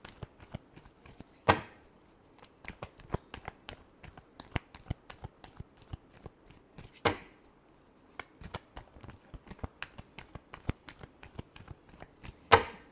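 Tarot cards being shuffled by hand, a long run of quick crisp riffles and taps, with a few louder bursts standing out among the rapid clicks, close and fairly quiet, with no speech.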